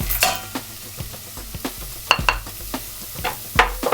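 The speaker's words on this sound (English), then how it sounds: "Give that a little stir." A spoon stirring spices roasting in a pot for Sri Lankan mutton curry, with soft sizzling under a few distinct scrapes and knocks against the pot, close and clear, no voices.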